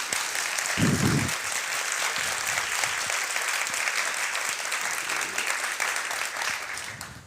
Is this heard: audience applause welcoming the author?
yes